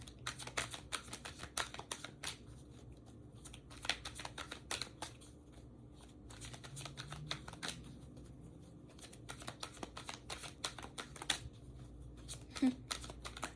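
Cards being shuffled in quick riffling bursts, crisp flutters and taps repeating throughout at a close, quiet level.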